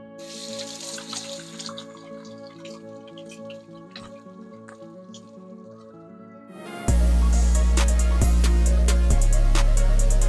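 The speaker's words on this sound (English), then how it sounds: "So now we'll wash our hands." Tap water runs loudly and continuously over hands being washed during home baking, starting abruptly partway through after a stretch of quieter dripping and light tones.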